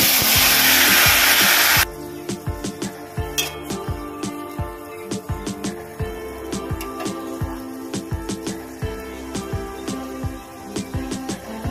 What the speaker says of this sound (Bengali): এটা কয়েক সেকেন্ড ভেজে নেব। এবার চাল কুমড়োটা দিয়ে দেব।